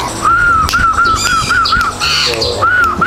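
Oriental magpie-robin chick about two weeks old, calling in a rapid series of loud, close, repeated squawking notes with brief pauses, scraping and handling noises mixed in.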